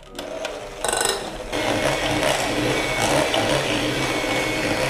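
Electric mixer beating unsalted butter with vanilla extract for red velvet cake, a loud continuous whirring motor hum that briefly shifts in pitch early on before settling into a steady drone, close up with no voices.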